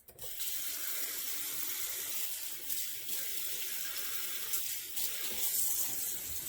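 Water runs steadily from a kitchen tap into a sink while collard greens are rinsed, a continuous soft hiss and splash nearby with small fluctuations.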